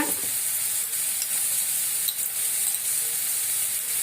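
Ginger garlic paste sizzles and spatters in a hot pan, a bright continuous frying hiss with occasional stirring clicks, close and steady throughout.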